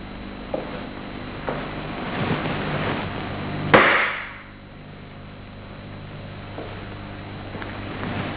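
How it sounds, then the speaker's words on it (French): A bullet fired through a hard-boiled egg: one sharp, loud crack partway through, ringing briefly and decaying over about half a second against a quiet, steady background. "Tirons dans un œuf cuit dur qui est un solide."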